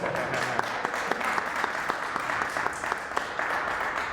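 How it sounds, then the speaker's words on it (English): Audience clapping at an organ donation month celebration, a steady even patter of many hands held at moderate level for a few seconds. "Give him a round of applause, Mr. Excitement"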